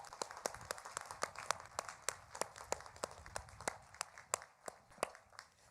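An audience at a doctoral commencement ceremony applauds the graduates with steady, evenly spaced claps that sound thin and fairly distant.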